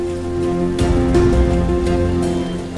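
Rain pours steadily in a staged scene from a Ramayana television serial, a continuous loud wash of falling water with a swell partway through and no voices.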